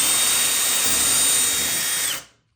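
Power drill boring a hole in wood, a steady close high whine running for about two seconds before spinning down and stopping, with no voices.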